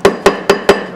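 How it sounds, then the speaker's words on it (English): Four evenly spaced metallic hammer strikes ring out close and loud as a coin ring is beaten on a steel mandrel, each blow a sharp clank with a short ringing tail, no voices. "he's actually hammering it in a direction so it's going on"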